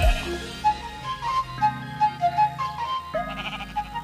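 Minecraft sheep, in a modded Android game, let out a string of short, nasal bleats one after another, close and clear with no talking.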